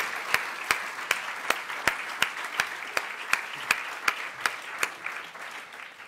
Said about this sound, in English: can we give ourselves a round of applause for the effort and energy that made it possible